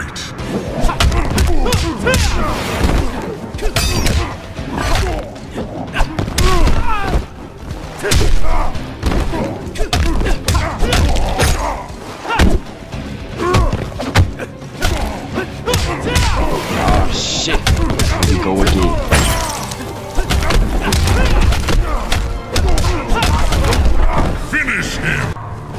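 Mortal Kombat XL fight round, with dense, continuous combat thuds, impacts and effects over game music and character grunts, loud throughout with brief shouts.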